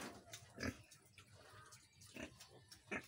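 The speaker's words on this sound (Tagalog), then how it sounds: "Hello mga baboy" Pigs grunting while feeding on a farm visit: a few short, low grunts spaced irregularly at moderate distance, faint against a quiet background.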